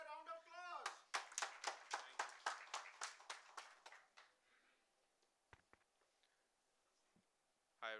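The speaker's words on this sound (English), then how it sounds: "Let's have a round of applause." A conference audience claps in a steady, loud round of applause that rises quickly, holds for about three seconds and then fades into a few scattered claps, with a brief voice at the start and a bump at the end.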